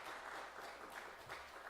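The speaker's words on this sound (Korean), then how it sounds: "우리 환영하면서 한 박수 한번 큰 박수로 하면 함께 환영하겠습니다." A church congregation claps to welcome newcomers at a children's Sunday service, a soft, distant, continuous patter of many hands lasting a couple of seconds.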